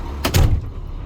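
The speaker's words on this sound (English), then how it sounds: "I guess I should shut the door." A door on a 2002 International 4300 rollback truck pulled shut from inside the cab, one brief close solid thud with a short rattle, alone in a quiet interior.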